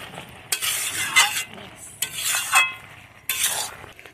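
Kalmi greens cooking with prawn, ilish fish heads and chilli powder in a pan as a ghonto, stirred in three bursts of scraping spatula strokes over a soft sizzle, close and without talk.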